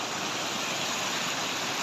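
River water flows steadily in Famy, Laguna, a constant broadband rush heard alone at moderate level.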